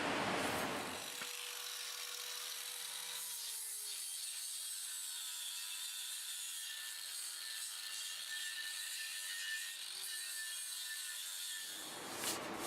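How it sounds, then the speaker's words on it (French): A flap disc grinds paint off a steel gas bottle being made into a hang drum, a steady high abrasive whine that runs about ten seconds without a break, with slight shifts in pitch and no voices. "je vais passer au disque à lamelles pour enlever la peinture et lisser un petit peu ici"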